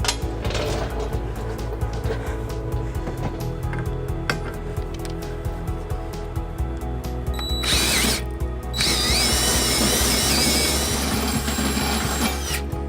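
A power drill enlarges pre-started holes in the frame of a 2017 Hyundai Elantra for trailer hitch mounting bolts, a steady close whirring and grinding with a ratcheting rattle that rises into a louder, harsher whine near the end.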